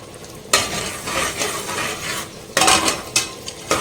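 Butter melting in a pan for mutton biryani, with steady frying sizzle and a few sharp stirring scrapes and utensil clinks near the start and end, no voices.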